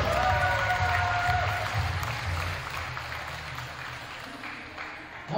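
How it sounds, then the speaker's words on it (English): Crowd applause fills a high school gym during senior recognition at a women's varsity basketball game, strongest at the start and gradually fading, with a low murmur of voices and noise underneath. "How about a round of applause for super senior Julia George?"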